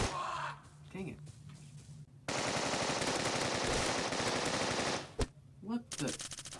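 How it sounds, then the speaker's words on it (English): Loud, sustained machine-gun fire in the video game Bullet Force rattles for several seconds, with shorter bursts and single shots around it and someone talking in between. "I shot that guy so many times"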